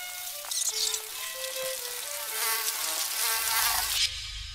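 Flies buzzing in a Polish folk tale, a close whiny drone that wavers up and down in pitch for several seconds before cutting off.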